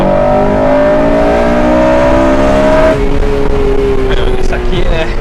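A Honda Civic Si with a six-speed manual gearbox revs hard, its engine note climbing steadily in pitch before dropping at a gear change and building again, loud and close from inside the cabin.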